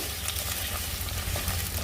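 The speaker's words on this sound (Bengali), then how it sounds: "এই যে এবার একটু নেড়ে ছেড়ে ভেজে নেবো" Chicken pieces for Chicken Manchurian being stirred and fried in a pan, a close, busy sizzle with stirring scrapes and no talking.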